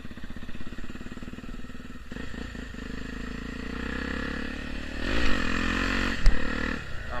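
A Honda Tornado motorcycle fitted with a Pro Tork exhaust idles with a throaty, pulsing rumble close by, then revs up and settles, with a sharp clatter near the end.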